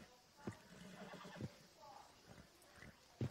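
A horse in the video game Red Dead Redemption 2 whinnies and snorts amid soft hoof clops, fairly close, with a few sharp thuds and a quiet background hum.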